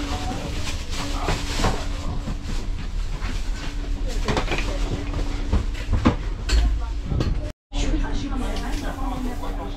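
Passenger train running on rails, heard from inside a first-class compartment on a journey to Oran, Algeria: a steady rumble with rhythmic clicks and hiss throughout, people talking over it, and a brief dropout near the end.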